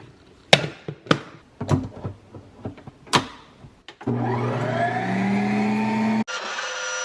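A Ninja Creami ice cream maker gives several sharp clunks and clicks as it is set up, then its motor whirs loudly and steadily in sorbet mode, cutting out abruptly and dropping to a lighter hum.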